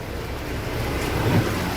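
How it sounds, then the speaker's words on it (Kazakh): Floodwater rushes through Shymkent near a bridge, a steady broadband roar of churning, flowing water heard close and loud without a break or talking. "Мына жақтан ағып жатқан суды қараңыздар."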